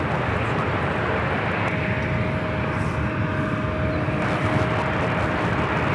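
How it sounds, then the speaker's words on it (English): An Airbus A220 takes off at LAX with a loud, sustained jet engine roar and a thin steady whine running through it, rumbling continuously without any voices. "Looks like we have an A220 going to be taking off momentarily"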